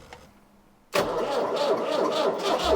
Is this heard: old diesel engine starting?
yes